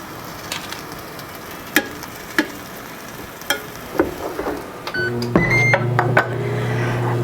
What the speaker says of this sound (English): This air fryer makes a lot of noise.